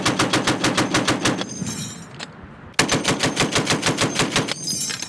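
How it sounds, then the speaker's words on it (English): An M2 Browning .50 caliber heavy machine gun fires two long sustained bursts of rapid, evenly spaced booming shots, loud and close, separated by a brief pause with echoing decay. "The M2, also known as the Mod Deuce, or 50 cal, is a heavy machine gun that was first developed by John M. Browning"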